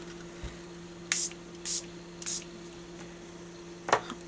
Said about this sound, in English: I'm going to go ahead and spray it a couple times.